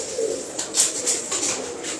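Pigeons coo close by, soft repeated calls rising and falling over a steady hiss of background noise.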